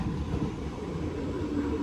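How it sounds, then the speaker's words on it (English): An old ex-District line tube train on the Isle of Wight rumbles steadily along the rails, a dense low rolling noise with faint rhythmic clatter, constant and fairly close. "But I do know this is an old district line tube train."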